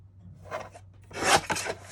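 Paper being cut with scissors while trimming a tag to size, heard as a short quiet snip followed by a louder, longer rasping slice through the sheet, close by with no talking.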